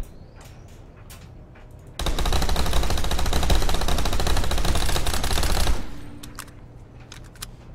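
Video game gunfire from the Jaguar gun comes in a single loud, sustained automatic burst lasting about four seconds. It is preceded and followed by sparse clicks and mechanical handling noises.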